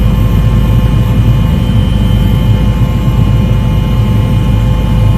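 Helicopter carrying Prime Minister Holness over storm damage in Jamaica, a loud, steady engine and rotor drone heard from inside or close by, unbroken and without voices.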